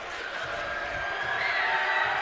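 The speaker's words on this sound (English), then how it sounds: "Red Oak crowd making some noise" A home crowd at a boys high school basketball game in Red Oak cheers and whoops, a sustained, fairly loud roar that swells toward the end, with a commentator's voice faintly under it.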